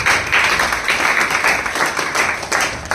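An audience at an award ceremony claps to welcome a recipient, with dense, continuous applause from many hands, close and fairly loud, with no voices over it.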